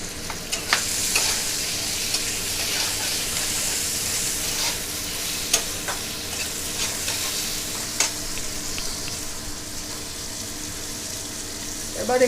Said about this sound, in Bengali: হলুদ দিয়ে একটু নেড়ে নেব।